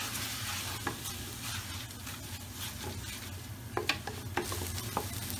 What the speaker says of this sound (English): And we just want to combine all that together.